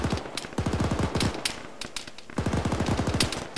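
Video game gunfire in Arma: rapid automatic bursts of machine-gun fire crackle close and loud, broken by sharp single shots and more distant reports, with brief pauses between volleys.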